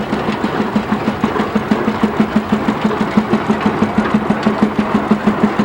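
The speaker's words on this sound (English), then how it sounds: "1918 Townsend, 1225. Built to look like a steam engine, but runs like a gas engine." A 1918 Townsend tractor, built to look like a steam engine but running as a gas engine, thuds along with a steady rapid chugging beat at an outdoor threshermen's show, loud and continuous.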